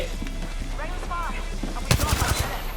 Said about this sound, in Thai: ยิงตัวปอมอยู่แล้วครับผม